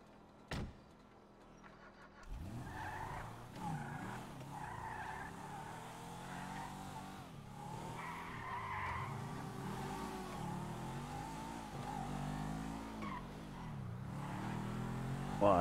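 A fast car speeds past with tyres skidding and screeching, engine roar rising and falling continuously and loudly at close range, with a sharp click at the start and no talking.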